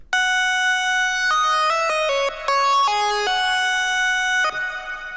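A bright, buzzy hardstyle saw synth lead in mono with retrigger on steps through a short melody of sustained notes, its tone shifting slightly with each retriggered note as the phase knob turns, loud and alone.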